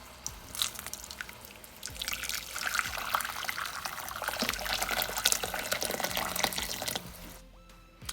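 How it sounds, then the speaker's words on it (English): Hot water pours into a cooking pot holding turkey necks for brown stew, a close, continuous splashing trickle that swells after a couple of seconds and then cuts off near the end. "And we're gonna add some water now."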